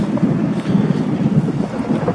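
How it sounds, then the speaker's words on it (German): Wind buffets the microphone while riding a bicycle outdoors, a steady low rumbling roar with fluttering gusts. "der Wind weht uns ins Haar"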